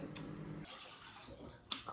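Water poured in a kitchen while appam is being made, a brief splashing rush near the start that gives way to a softer, broad wash of running water with a faint clink or two.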